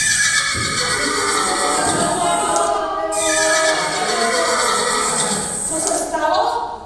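A bolting horse neighs loudly and continuously, its shrill whinnies rising and falling close by, with hoofbeats clattering underneath.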